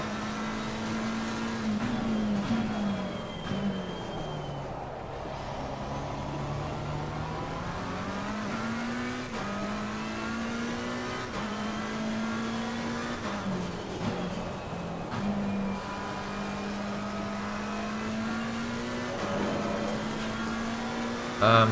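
McLaren race car engine in Assetto Corsa Competizione at Snetterton, a steady moderately loud drone rising in pitch, dropping at repeated gear shifts and braking, then climbing again across a long stretch.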